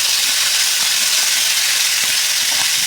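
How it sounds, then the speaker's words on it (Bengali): Chicken pieces fry on high heat in a pan for a wedding-style chicken roast, giving a constant bright sizzling hiss that stays loud and even, with no talking. "চিকেনগুলো ভাজার জন্য কিন্তু আপনার চুলার হিটটা হাই হিটে রাখতে হবে"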